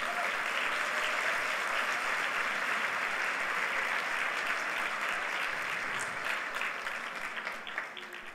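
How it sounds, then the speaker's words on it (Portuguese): Sustained applause from a church congregation fills the room, dense and steady, gradually thinning toward the end with no voices over it. "Vamos dar um aplauso ao Messias?"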